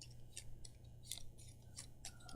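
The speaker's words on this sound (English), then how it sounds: "I'll give these something of a shuffle here." Cards from the Leaving Earth board game are shuffled in short, soft papery riffles and flicks, quiet and close with no voices.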